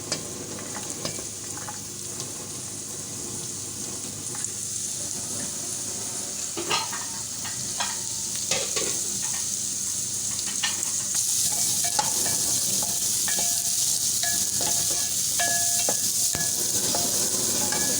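Carrots sizzle and hiss steadily in a hot pan as the first step of a hot and sour soup, with scraping stirs and clinks rising over a continuous frying crackle.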